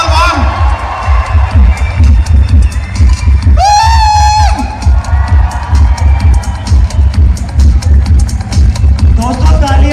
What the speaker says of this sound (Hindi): जोरदार तालियां हैं आवाज से